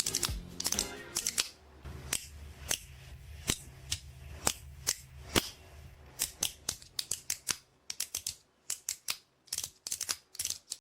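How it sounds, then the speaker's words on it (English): Light, crisp clicks from a fidget push toy, each press giving a short sharp tick; irregular bursts of rapid clicking alternate with sparser single clicks, close and clear with no talking. "With each push, there is a light click."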